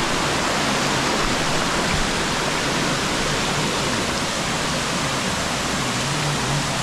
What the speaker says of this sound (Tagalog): titingnan natin kung gaano kalakas yung tubig